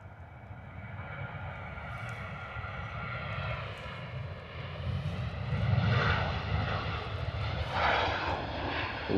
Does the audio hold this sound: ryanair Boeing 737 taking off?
yes